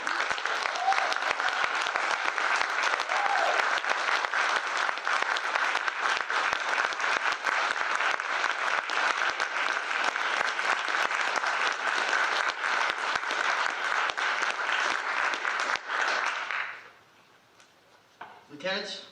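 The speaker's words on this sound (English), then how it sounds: "Round of applause." At an Air Force ROTC commissioning ceremony, a crowd claps steadily and evenly for about sixteen seconds, then the applause stops abruptly and a quieter voice follows in the hush.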